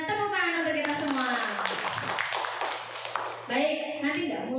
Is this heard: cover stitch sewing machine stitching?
no